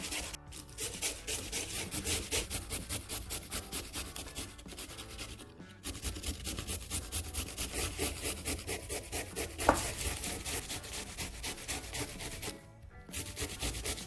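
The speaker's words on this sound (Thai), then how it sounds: "ขั้นตอนแรกเราจะนำมันฝรั่งมาขูดค่ะ เราจะใช้ที่ขูดแบบนี้ค่ะ ขูดไปเรื่อยๆจนเสร็จ" Potatoes rubbed on a hand grater in rapid, steady back-and-forth rasping strokes, close and continuous, with two brief pauses to reposition.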